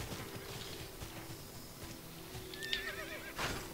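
A blue horse in the video game Tera Online neighs, a loud rising whinny near the end, with clip-clop hooves and game ambience underneath.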